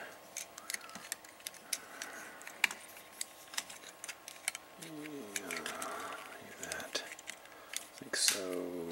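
Clicks and snaps of plastic panels on an Armada Megatron Transformers Combiner Wars Leader toy being flipped and bent, a rapid irregular run of small sharp taps close by, with a voice talking over part of it.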